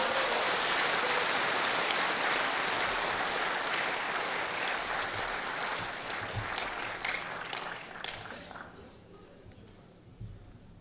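Sustained audience applause at a Korean ceremonial ordination vow event, dense clapping that gradually thins and fades toward the end.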